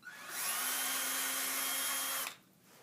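A power drill runs steadily as its bit is drawn back out of the material in a classroom setting: one loud, even whine for about two seconds, then an abrupt stop.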